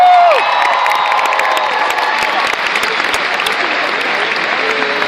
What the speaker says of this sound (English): A big round of applause for the great introduction.